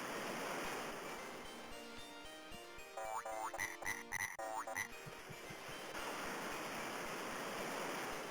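An arcade video game's beach scene with frogs: croaking calls burst briefly over a steady wash of surf-like noise, faint and somewhat distant, with no voices.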